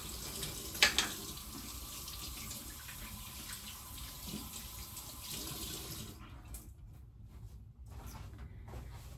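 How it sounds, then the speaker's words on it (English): Water runs from a tap into a sink in a steady close rush while false eyelashes are rinsed, with a brief clink early on before the flow shifts and thins toward the end. "Forgot to like rinse out my lashes."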